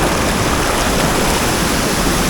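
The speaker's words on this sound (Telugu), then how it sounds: "మొత్తానికైతే ఒక చిన్న వాటర్ ఫాల్ దగ్గరికి వచ్చినాం" Small waterfall in a forested valley rushes with a loud, steady, dense roar of falling water, close by and with no other sounds.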